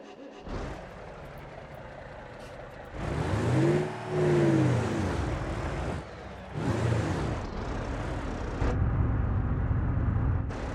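Simulated Mercedes-Benz Actros truck hauling a 20-ton load on winding village roads in BeamNG, its engine laboring and revving in uneven surges, with rising and falling pitch sweeps between quieter pauses, close and moderately loud.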